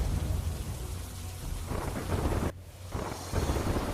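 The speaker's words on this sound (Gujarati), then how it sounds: "પાટસર, દ્રોણ સહિતના ગામોમાં પણ વરસાદ વરસી રહ્યો છે" Heavy monsoon rain pours steadily in a Gujarat village, with a dense close hiss of drops on surfaces, low rumbling thunder underneath, and a brief dip in the downpour near the end before it resumes.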